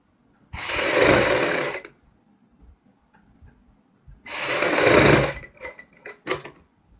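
A sewing machine stitches a kurti neckline in two bursts of fast, loud whirring separated by a quiet pause, followed by a few short stuttering runs.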